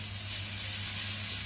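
Shrimp drop into a hot oiled pan and sizzle steadily, a loud, even frying hiss that runs unbroken for the whole moment with no voices.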